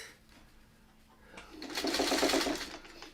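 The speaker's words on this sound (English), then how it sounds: "You take like 3-4 stitches, you maneuver, or you adjust, right?" A sewing machine stitches a quilt block, building from a faint hum to a loud, steady, close burst of rapid needle action lasting about a second, with no talking.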